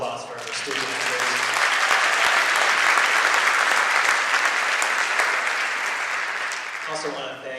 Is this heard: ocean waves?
no